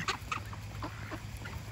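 A duck making soft clucking and quacking calls, a few short, separate bursts spread over a couple of seconds against a low steady hum, fairly close but quiet.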